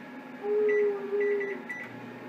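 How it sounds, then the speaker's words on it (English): A microwave oven hums steadily with a low drone, its buttons beeping a few times as it starts. "I'm also going to hit 3 minutes on the microwave right now"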